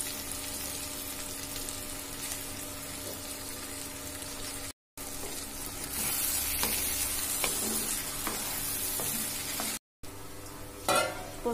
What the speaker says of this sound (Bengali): ঝিঙে আর আলুটা কষানো হয়ে এসেছে, এবার আমরা এতে পোস্ত বাটা দিয়ে দেব।